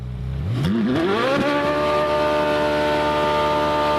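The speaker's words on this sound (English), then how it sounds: "The idea of launch control is to minimise wheel spin in conditions like these." A Ferrari doing a launch-control start with wheel spin, engine revving hard and loud, pitch climbing steeply then holding a steady high whine for several seconds, close by.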